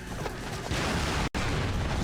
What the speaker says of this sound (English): at least the booms in this game feel nice